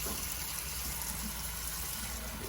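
Warm water runs steadily from a kitchen tap as rice and peas are prepared, a continuous close rushing hiss with no breaks.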